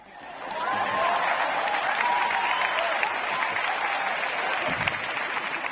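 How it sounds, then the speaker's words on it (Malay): A stand-up comedy audience breaks into sustained applause, a dense wash of clapping that swells in quickly and holds steady at moderate loudness, with scattered crowd murmurs and no talking over it. "Satu lagi tepukan gemuruh bagi saya."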